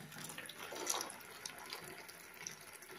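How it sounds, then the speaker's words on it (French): Heated water poured from a kettle into a small container, a continuous light splashing trickle close by, steady for a few seconds with small bubbling peaks and no talking. "j'ai préalablement chauffé mon eau. Je verse dans ce petit récipient"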